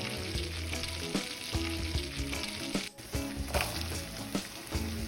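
Olive oil with turmeric and a lemon, garlic and oregano rub sizzling and frying in a hot pot, a steady busy crackle with occasional stirring clatter and louder bursts throughout.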